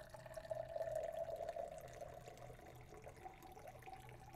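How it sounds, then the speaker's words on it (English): Iced tea poured from a small pitcher into a glass, a soft, steady trickling stream that gurgles faintly and tapers off, close and quiet with no talk. "take this little pitcher of iced tea and pour it as neatly as I can into this glass"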